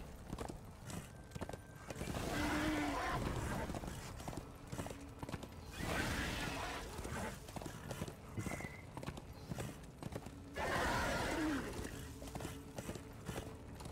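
Horse riding in the video game Darksiders II: rhythmic hoof clip-clops gallop in repeated bursts, with brief whinnies and clearly audible game effects, and no talk over them.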